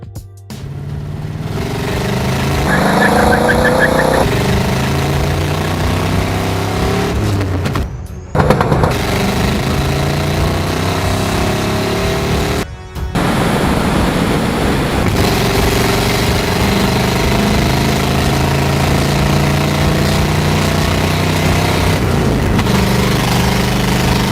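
Car engine revving and accelerating from first gear up to 100 km/h, a loud sustained drone that climbs in pitch through several gears, with brief drops between shifts, close and continuous.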